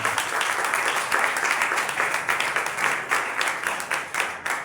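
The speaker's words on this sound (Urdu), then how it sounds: "آئیں ایسے خوبصورت اور زوراور خدا کے لیے زوردار تالی بجائیں" A church congregation at a Sunday sermon claps loudly for God, a sustained round of crowd applause with a faintly rhythmic pulse toward the end, steady and full throughout.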